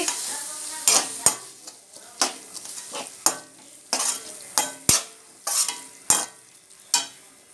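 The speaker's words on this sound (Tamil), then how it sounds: "இப்போ தக்காளி இதே மாதிரி வெங்காயம் வதக்குற மாதிரி நல்லா வதக்கிடலாம்" Tomatoes and onions sizzle in a pan while a spoon stirs and scrapes them in a steady rhythm of about a dozen strokes. The clip is quiet, with no speech.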